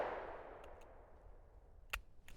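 A Taurus Tracker .44 Magnum revolver fires a single shot; the report is faint and fades quickly, and a few small sharp clicks and knocks follow.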